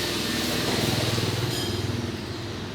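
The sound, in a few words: power tools running in the background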